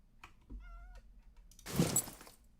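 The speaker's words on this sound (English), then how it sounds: "That's a cat." A cat meows in the Minecraft video game, a short tonal call near, followed by a brief louder burst of game noise.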